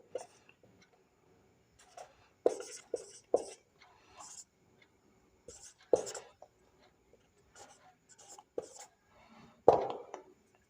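Marker or chalk writing questions on a classroom board, irregular bursts of close scratchy strokes and taps separated by pauses, with occasional speech.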